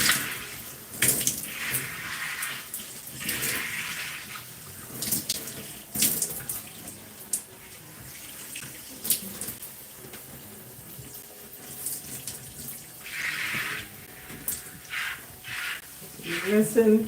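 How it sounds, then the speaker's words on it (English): Tap water runs and splashes while conditioner is rinsed out of hair, in bursts of flowing and spattering water with someone talking over it now and then. "Rinsing. We don't want to leave any conditioner in our hair."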